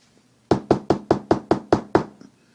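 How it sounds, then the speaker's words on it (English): Eight sharp, evenly spaced knocks on a door, loud and close, in a quick steady rhythm with no talking. "Someone knocked on his door."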